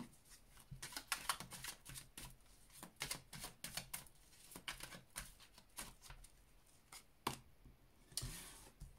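Tarot cards being shuffled by hand, a quiet series of crisp riffling and flicking bursts in irregular rhythm, heard close with no talking.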